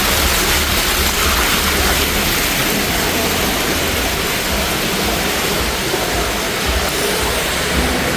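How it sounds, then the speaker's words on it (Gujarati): Hot spring water at Gangotri pours down from above into a bathing pool, making a loud, steady, unbroken rushing roar close by with no talk over it. "અહીંયાથી ઉપરથી ગરમ પાણી આવે છે"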